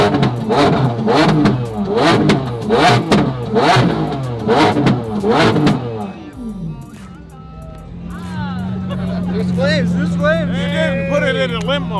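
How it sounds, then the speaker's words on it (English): Lamborghini SV engine revved hard in a series of rapid, loud throttle blips that rise and fall, then a steadier drone as people talk over it nearby. "this is what it sounds like to rev the hell out of it"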